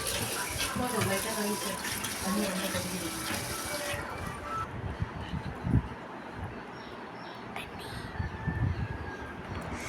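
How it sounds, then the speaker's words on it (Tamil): Rice for chicken biryani cooked over a wood-fired stove is washed in water, giving splashy swishing and pouring sounds with intermittent sloshes, set outdoors with faint birds in the background. "அரிசியை நல்லா வந்து கழுவி எடுத்துக்கலாம்"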